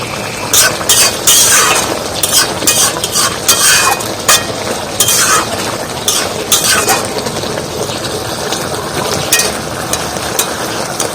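Repeated scraping and clanking of a spoon stirring fried eggplant into a thickened curry in a pan over a continuous sizzle, in irregular bursts, close by.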